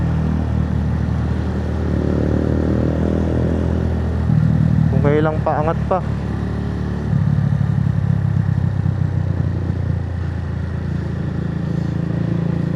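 Motorcycle ridden through slow, congested traffic on an uphill stretch, a steady low engine drone with rumble and wind noise throughout, close and loud, while a rider speaks briefly over it.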